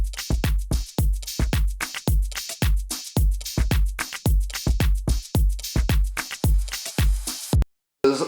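A full electronic dance track mix from a production breakdown plays with punchy four-on-the-floor kicks plus extra secondary kicks and percussion in a steady driving rhythm, loud and up front, stopping briefly near the end.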